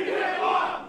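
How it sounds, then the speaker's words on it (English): Wrestling crowd at a no-ring deathmatch chanting together, a dense loud roar of many voices filling the space briefly and steadily. "the chant rings up from the crowd"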